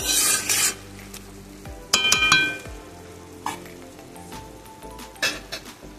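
A spoon stirs banana flower curry with ghee and garam masala in a hot pan, giving a soft sizzle with scraping strokes and a few sharp metallic clinks against the pot, close by.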